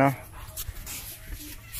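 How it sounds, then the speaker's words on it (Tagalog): A puppy on a rural provincial farm gives a brief, high, close whimper right at the start, then it is mostly covered by people talking and faint shuffling. "May tuta din."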